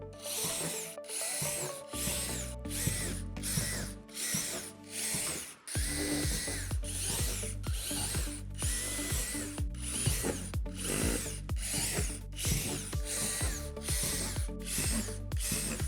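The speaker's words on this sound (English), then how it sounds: "Take each of the deck panels with a 3/8 drill bit, drill out each hole, making sure you start from the top going through." A power drill fitted with a 3/8 bit bores holes through plastic deck panels of a backyard playset, with repeated loud, close bursts of whirring separated by short pauses.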